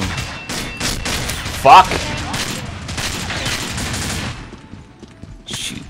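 Rapid gunfire from the shooter video game Combat Arms rattles through most of the clip in dense bursts, with a loud shouted exclamation near the middle.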